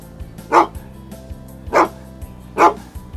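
A dog barks three times, short evenly spaced woofs, fairly close against a quiet background.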